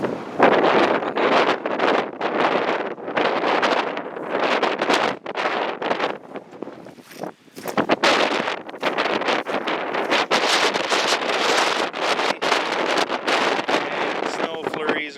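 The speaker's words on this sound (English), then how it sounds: "the wind's still windy" Blustery wind buffets the microphone outdoors around cattle pens on a snowy, sunny day, steady broadband roar rising and falling in gusts throughout, with a brief lull midway.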